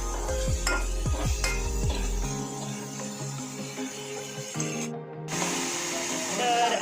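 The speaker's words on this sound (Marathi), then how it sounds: "टॉमॅटो एकदम चांगलं शिजेपर्यंत आपण फ्राय करून घेऊया तेलामध्ये" Tomatoes fry in oil in a pan, a soft sizzle accompanied by scraping and clanking of a spoon against the pan, with a few sharp metallic knocks and a brief pause near the end.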